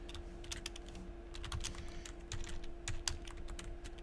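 Quiet, rapid clicking of keys on a computer keyboard as Python code is typed, irregular bursts of taps over a faint steady hum, close and soft.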